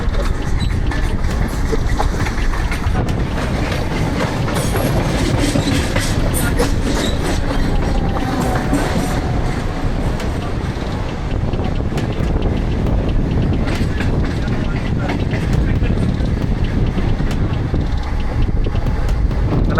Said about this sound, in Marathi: ट्रेन आलेली ठाण्यावरून ट्रेन आलेली